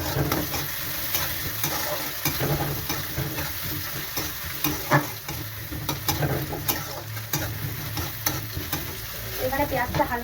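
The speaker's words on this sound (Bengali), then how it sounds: "এটা অবশ্যই গরম তেলে দেবে," Chopped onions hit hot oil in a home kitchen pan, giving a steady close sizzle and crackle with scattered scraping stirs and small pops running throughout.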